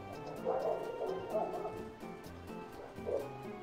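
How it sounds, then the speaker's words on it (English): Several dogs bark in the background, a few muffled, distant yaps coming in short bursts over a steady hum of room noise. "Sorry about the dogs."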